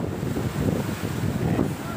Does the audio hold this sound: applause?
no